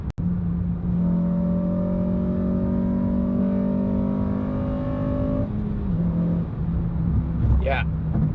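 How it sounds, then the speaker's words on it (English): An 8th-generation Honda Civic Si revs hard and close through a cheap, noisy knockoff intake, a rising loud howl that climbs for several seconds, then drops back to idle before a brief blip, with a voice speaking over part of it. "super noisy intake"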